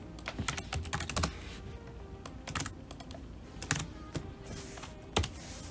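Website address typed on a computer keyboard, with quiet, close keystrokes in uneven quick runs and single taps, some clusters faster than others, over a soft background hiss.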